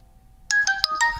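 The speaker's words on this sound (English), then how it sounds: "Okay, so I got a little text right here." Text message notification tone on a Motorola Razr 40 Ultra phone: a short, bright sequence of four quick chiming notes, clear and close, following a moment of near silence.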